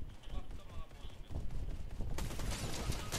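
Sniper rifle fire in a Fortnite match, with sharp report bursts over dense game noise, a loud broadband crack near the end, and players talking throughout.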